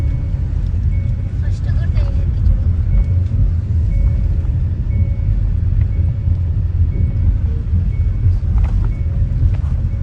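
A new car climbs uphill on a route to Kondagattu with a continuous low engine rumble and wind-buffeted road noise, while people talk over it.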